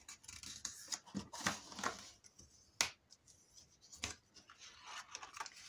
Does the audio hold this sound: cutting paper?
yes